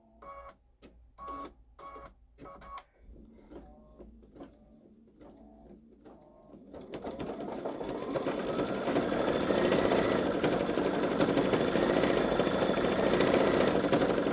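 A Baby Lock Solaris Vision embroidery machine stitches an outline, starting with a few separate clicks and taps, then settling into a loud, continuous rapid stitching drone that runs to the end.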